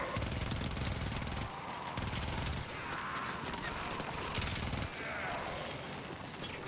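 A machine gun fires in Warframe in loud, rapid bursts broken by a few short pauses, with the rattling shots close and harsh.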